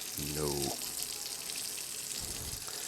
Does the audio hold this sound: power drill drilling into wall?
no